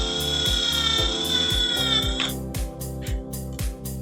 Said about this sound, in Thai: เราก็จะใช้สว่านเนี่ย ในการยึดให้แน่นนะครับ